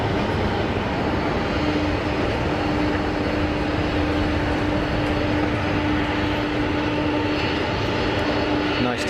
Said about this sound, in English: nice to see some of the older Boeing still in operation, proper workhorse aircraft.